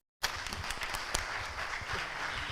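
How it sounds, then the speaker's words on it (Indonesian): An audience at a talk with Novel Baswedan and Rocky Gerung bursts into applause after a moment of silence, the clapping dense and sustained throughout. "Tepuk tangan semua."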